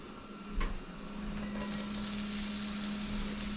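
Aromatics sizzling in a hot pan for oyster sauce and butter noodles, a steady close hiss that swells after a brief clatter and holds loud and even to the end, with no talk.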